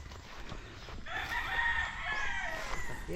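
A rooster crows at a chicken farm, a long loud call rising over a background of clucking hens and outdoor farm noise.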